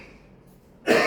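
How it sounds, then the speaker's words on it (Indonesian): A single short cough close by, abrupt and loud after a brief quiet moment. "Sorry, batuk ya."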